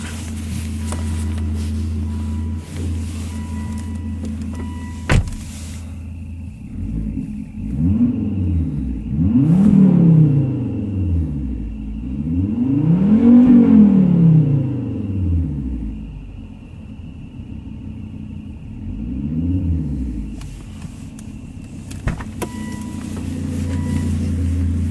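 Inside a 2006 Volvo S80 with a 2.5-litre five-cylinder turbo engine and its muffler deleted, parked in a garage: a deep idle rumble rises into several revs, the longest and loudest near the middle, then settles back to idle.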